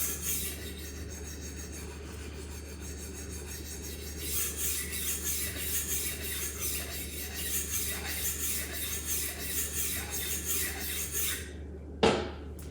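A Takamura R2/SG2 steel kitchen knife is honed on a HORL 2 rolling sharpener with a ceramic disc, giving a steady, close rasping rub that runs throughout, ending with a brief sharp clack.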